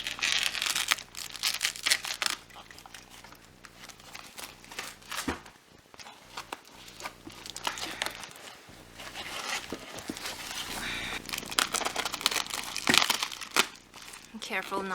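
Plastic wrapping crinkles and tears as it is pulled off Integra P1 Spec car side skirts, a continuous rustling and crackling close by with a few sharper rips, and a voice is heard over it.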